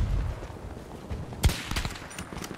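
In Battlefield 2042 on Xbox Series S, a sniper rifle fires one sharp, loud shot midway, followed by a few fainter cracks and low rumbling battlefield noise.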